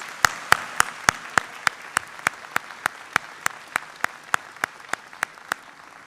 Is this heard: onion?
no